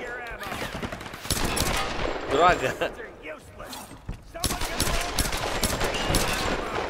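Gunfire in the Tomb Raider video game crackles in rapid bursts and scattered shots, with someone talking excitedly over the action.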